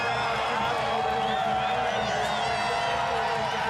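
Crowd at the Red Bull Joyride mountain bike slopestyle event at Crankworx Whistler, cheering and whooping from a distance in a steady roar, with a commentator talking over it.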